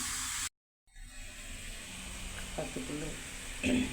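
Bottle gourd sautéing in a pan makes a soft, steady sizzle, broken by a short silent gap near the start and followed by a few faint utensil clinks.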